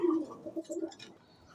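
Pigeons cooing inside a cage, a few soft, low throaty coos in quick succession, close by and fairly quiet, then fading out.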